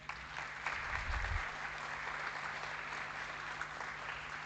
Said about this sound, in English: A huge round of applause for Sir.